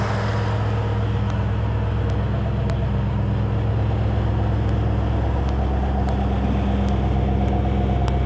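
A 1982 Ford F-150 with a 302 cubic inch V8 idling steadily after being started, a low continuous rumble with faint ticking, no talking.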